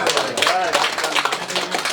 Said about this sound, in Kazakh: Осыған бір шапалақ ұрайықшы.